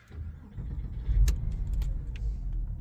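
A 2002 Porsche 911 Carrera 4 Cabriolet (996.2) with a manual gearbox cranks and fires up close by, with a jingle of keys partway through, then a low idle rumble that holds steady.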